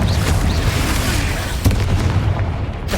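Confringo spell explosions in Hogwarts Legacy on PS5 make a dense, loud, booming roar throughout, with a sharp crack around the middle and rumbling debris that thins out toward the end.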